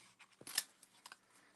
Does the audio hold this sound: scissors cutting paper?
yes